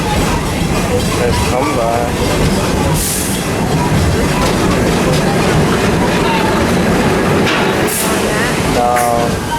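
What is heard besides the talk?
theme park train running on rails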